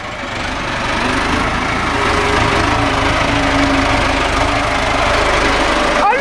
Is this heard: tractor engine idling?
yes